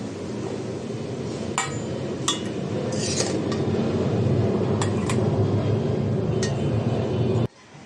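Fried greens are scooped from a wok into a bowl, with a steady background hiss broken by sharp metallic clinks and scrapes of a spatula against the pan, ending abruptly.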